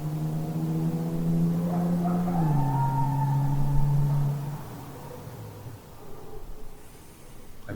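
A single sustained engine drone that shifts pitch upward and holds, then fades out, heard alone without voices.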